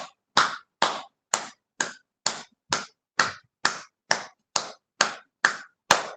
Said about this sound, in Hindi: अपनी तालियां 15 बार